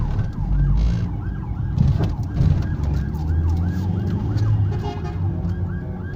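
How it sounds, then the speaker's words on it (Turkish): An ambulance siren wails in a repeating rising-and-falling pattern, approaching from behind a moving car, moderately distant, over the rumble of road traffic and engine noise. "Ambulans geliyor arkadan evet."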